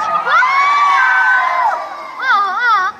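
Loud crowd at a Miss Gay Bukal pageant in Tagkawayan, Quezon, shrieking and cheering with sustained high-pitched whoops and screams that swell, dip briefly, then rise again near the end.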